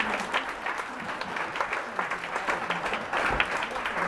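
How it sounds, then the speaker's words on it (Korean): An audience at a Chuseok pansori performance claps steadily and fairly softly, an even wash of applause with no voices over it. "우리 함께 박수 한번 부탁드립니다."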